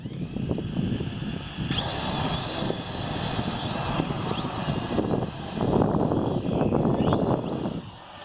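A World Tech Elite Venom Pro GPS quadcopter drone flies in a steady, loud propeller whir with buzzing motor tones that shift in pitch as it moves, the sound swelling briefly near the end, with no voices.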